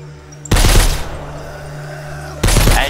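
Gunshots in a shooting video game: two loud bursts of fire, one lasting about half a second to a second with a decaying tail, then a second burst near the end.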